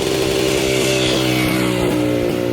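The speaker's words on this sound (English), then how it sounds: "when you're riding down the street, it doesn't even sound like a normal motorcycle. It sounds completely unto its own." Engine of a 1954 Jawa Perak type 11 vintage motorcycle running, a loud, steady, buzzing drone with a rapid regular pulse, close by and uninterrupted.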